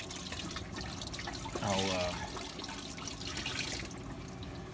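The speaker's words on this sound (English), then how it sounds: "the spin dryer works freaking great. It really gets a lot of the water out" Dirty water draining from a spin dryer on a sailboat, a faint steady trickle and splash with a brief louder gurgle midway, while a voice speaks briefly.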